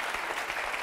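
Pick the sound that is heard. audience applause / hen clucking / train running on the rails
audience applause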